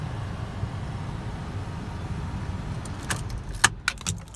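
Keys for a 2016 Audi A1 Sportback jangle near the end, a few sharp metallic clinks inside the quiet car cabin over a low steady hum.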